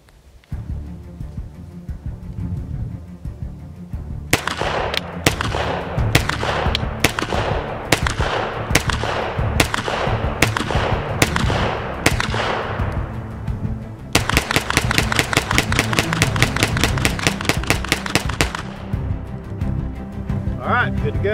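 A Stribog SP9A3 pistol-caliber carbine fires through a magazine at close range: about nine evenly spaced single shots, then a fast rapid burst of roughly two dozen rounds, all over a low steady background hum.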